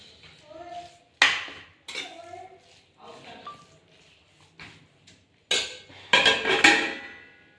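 A metal lid clanks onto a cooking pot on a home gas stove in several sharp clinks and rattles, the loudest burst near the end, while someone talks throughout.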